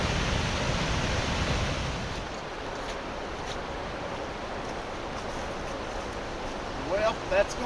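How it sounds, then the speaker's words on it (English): Steady broadband rush of a waterfall at Brush Creek Falls in the Appalachian mountains of West Virginia, a continuous wash of falling water heard at moderate distance with no talk. "deep in the mountains of Appalachia here, a beautiful waterfall"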